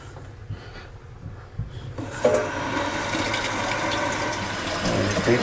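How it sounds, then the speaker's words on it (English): Water from a tap starts running to rinse out a Norwex mop, a faint rustle giving way to a steady rushing flow that continues to the end. "you just kick on some water."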